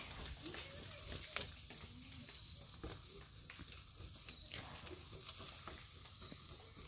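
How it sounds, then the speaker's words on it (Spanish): Meat grilling over an outdoor fire at a family gathering sizzles and crackles in a steady low hiss, with scattered pops and people talking nearby. "ya casi vamos terminando de asar la carne"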